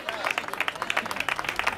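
Audience applause at a carnival gathering in Marbella: a brief burst of dense, steady clapping from a crowd, fairly close, with crowd noise mixed in.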